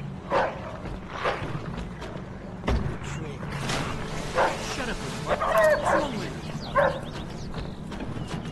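In the Mafia 2 video game a dog barks several times at moderate distance, the barks scattered across the scene while someone talks over them and other game sounds play underneath.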